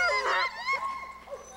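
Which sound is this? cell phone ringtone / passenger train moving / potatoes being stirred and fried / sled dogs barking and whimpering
sled dogs barking and whimpering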